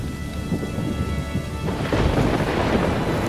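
Heavy rain pours down in a dense, steady hiss, with a deep rumble of thunder rolling in and swelling partway through.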